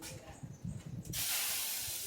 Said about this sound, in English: when you drop water and it just chases itself around the pan